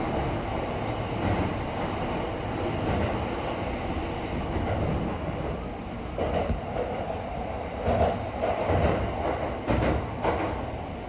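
A train pulls into the basement-level-5 underground platform at Tokyo Station, heard from on board. The interior rumble is steady, with faint wheel squeal and soft clicks, and no one speaks.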